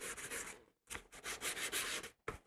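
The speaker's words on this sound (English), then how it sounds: "when you sand to 500, you can start to use the wet sandpaper" Wet sandpaper rubs across a cosplay helmet in quick back-and-forth strokes, with a short pause between bursts of faint, close-up scratching.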